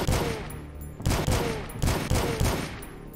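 Rapid bursts of gunfire from the retro shooter DUSK, several loud volleys in quick succession with sharp attacks and a rhythmic pattern, no voices.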